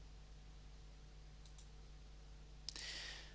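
A few faint computer mouse clicks while working in MYOB accounting software, two soft clicks early then a sharper click near the end, over a steady low hum.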